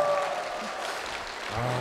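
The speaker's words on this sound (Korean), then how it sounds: "성도님들의 박수 함성으로 시작을 했습니다" A church congregation at Icheon Eungwang Church in Korea applauds and cheers in a short, brief burst, a crackly wash of clapping that swells again at the end.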